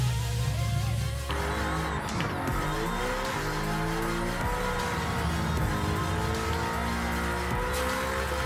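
An Audi R8 V8 drift-tuned car in Gran Turismo 7 roars continuously at high revs, with layered engine harmonics rising and falling through gear changes and an abrupt shift near the start, tire squeal mixed throughout.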